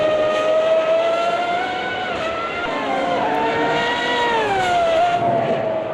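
A 1995 Formula One car's engine in the Automobilista 2 racing game, a loud, steady high-pitched howl that rises and falls with gear changes and throttle, continuous throughout with no talking.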